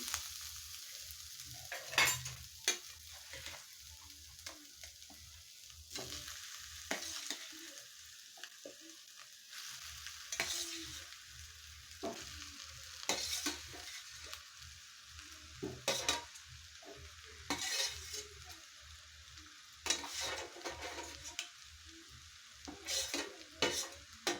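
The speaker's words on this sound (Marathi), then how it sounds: "सर्व व्यवस्थित मिक्स करून घ्यायचं" Mashed potatoes being stirred into fried spices with turmeric for a Mumbai-style vada pav filling, giving repeated scraping stirs of a spoon against the pan over a low sizzle, with no talking.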